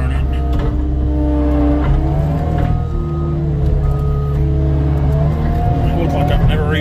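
A skid steer loader working in snow runs with a loud, steady diesel drone up close, overlaid by wavering tonal whines that rise and fall as the machine works.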